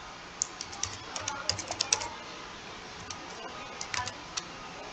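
Typing on a computer keyboard while entering text in MS Word: quick clusters of light key clicks, close and fairly soft, with a pause before a final short burst.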